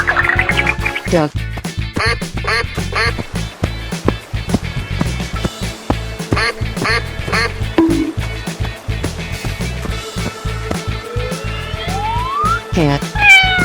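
A cartoon cat meows in short bright calls amid busy cartoon sound effects, clattering hits and music, with a siren-like whistle rising near the end.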